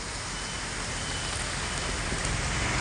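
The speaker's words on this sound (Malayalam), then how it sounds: "മഴ വന്നപ്പോൾ ഒന്ന് ചുമ്മാ എടുത്തേ ഉള്ളൂ" Steady rain falls at home on a hot, humid day after the wind has died down, a dense, even hiss that holds at a constant level throughout with no voices.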